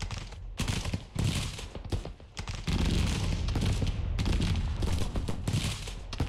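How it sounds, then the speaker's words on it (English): Civil War troops at the Battle of Bull Run fire a rolling fusillade of musket volleys in a strategy game, dense overlapping cracks and booms continuing without pause, loud and close. "These guys are firing, looks like."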